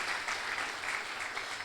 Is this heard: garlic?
no